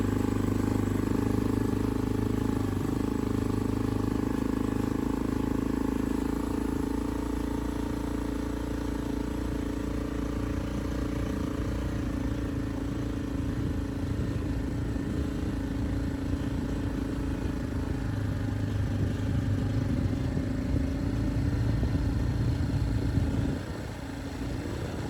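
A vehicle engine called Big Bear runs steadily while towing a very light firewood trailer on the way to a roadside stand, a constant low droning rumble with slight clatter throughout and no talk.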